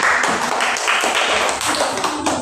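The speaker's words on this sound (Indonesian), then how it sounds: "Tepuk tangan." Students in a classroom give a round of applause, a dense, steady patter of many hands clapping close by that fills the whole stretch without a break.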